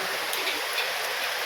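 Steady broadband hiss of rain falling, continuous and even with faint tick-like drops, no voices over it.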